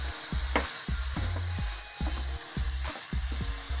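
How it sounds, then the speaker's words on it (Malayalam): Fried dried fish is stirred into a thick, simmering gravy for a dried-fish pickle made with toddy vinegar: a steady sizzle with regular scraping strokes of a spoon in the pan, close up and without voices. "ഇനി നമ്മൾ വറുത്ത് വെച്ചിരിക്കുന്ന ഉണക്കമീൻ ഇതിനകത്തേക്ക് ചേർക്കാം."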